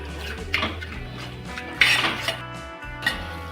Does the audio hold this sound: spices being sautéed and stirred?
yes